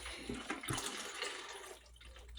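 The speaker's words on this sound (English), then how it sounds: "I'm using a half a cup of water." Purified water splashes and trickles briefly in a kitchen, a faint, short pour with a soft gurgle, no voices.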